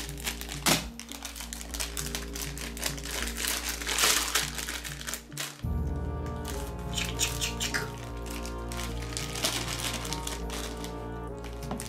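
Candy wrappers crinkle and crackle as sweets are unwrapped and opened, a close, busy run of crisp rustling bursts with a sharp tearing moment midway, no talking.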